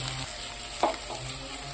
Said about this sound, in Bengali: দিয়ে দিলাম পরিমাণ মতো জল। ও বাবা, এবার একটু নাড়াচাড়া করে ঢেকে দেবো।